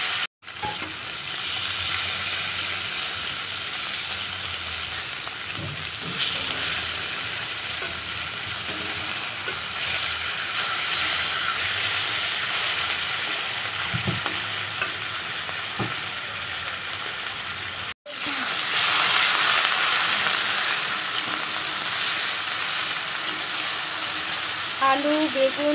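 Potato, eggplant, onion, garlic and green chilli fry in a pan with a steady, loud, continuous sizzle that drops out briefly near the end before resuming, with occasional stirring scrapes.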